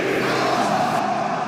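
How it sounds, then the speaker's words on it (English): A stadium crowd at a Minnesota Vikings at Seattle Seahawks football game, heard through an open window as a brief, steady, loud roar of many voices. "Play action pass, false start, crowd getting loud."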